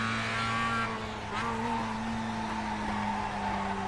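A Mazda race car in iRacing at Tsukuba runs at a steady engine drone while its overheated tires lose grip and squeal through a corner, the whine sweeping up and falling back.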